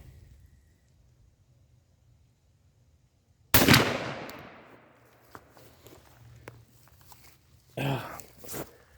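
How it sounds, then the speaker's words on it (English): A shotgun loaded with 3-inch double aught buckshot shells, 14 pellets each, fires one loud, close blast outdoors among leaves, its boom trailing off, then rustling and handling noises and a second sharp burst near the end. "This thing has been shooting insane in my gun, the 3-inch, and these are double aughts."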